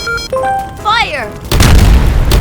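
A cartoon tank fires its cannon in one loud, deep boom that follows a short stretch of a high sung or synthesized tone and a rising whoop, with the rumble sustaining to the end.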